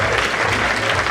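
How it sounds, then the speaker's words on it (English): Applause for an honoree at an HBCU event, a brief dense burst of many hands clapping, loud and even throughout. "let's give him another round of applause"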